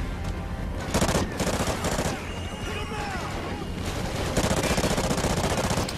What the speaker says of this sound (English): I shot the spotlight out